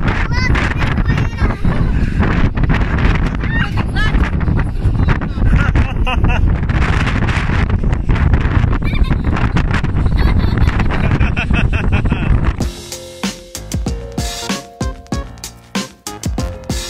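Strong wind during a Mediterranean cruise in Greece buffeting the microphone in continuous roaring gusts, then easing near the end as other outdoor sounds come through.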